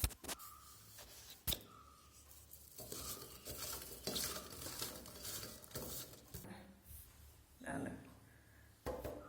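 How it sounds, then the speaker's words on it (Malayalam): Hands rubbing salt into seeded bitter gourd pieces in a home kitchen: close, irregular scraping and rustling with occasional sharp clinks against a bowl, quiet and uneven. "ഇനി ഉപ്പ് തിരുമ്പക്ക."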